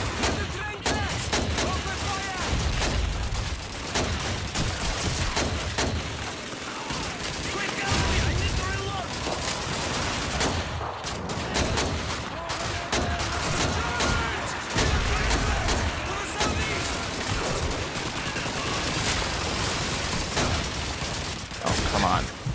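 Rapid gunfire and explosions from the Doom video game, BFG Edition, dense fusillades of shots and booms that continue almost without pause, while a player talks over the action.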